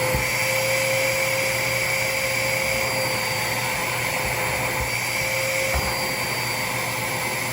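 A DeWalt wet/dry vacuum runs steadily with a loud, high whine and constant airflow roar while sucking up debris, close and alone with no talking.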